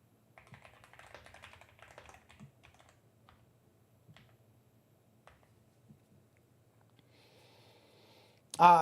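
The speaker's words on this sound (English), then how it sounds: "So this is actually a Yahtzee keyboard that we just got." Keys are typed on a Yahtzee AL66 mechanical keyboard, a quick run of soft clicks early on followed by a few sparse taps, quiet and close, with a brief loud burst of other sound at the very end.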